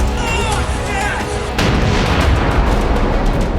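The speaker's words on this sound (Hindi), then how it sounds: "देखिए यहां कितना बड़ा धमाका हुआ।" A Russian guided projectile striking a T-72 tank in wooded terrain near Zaporizhzhia, heard as a loud, sustained blast rumble with a sharp jump in intensity partway through, with no voices over it.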